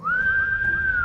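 A person whistles one clear, sustained high note that holds steady for about a second, close and loud.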